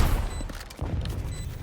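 A grenade explodes in the tactical shooter Valorant, heard as a dense burst of booms and crackles. It is followed by a second thump about midway through and short electronic tones.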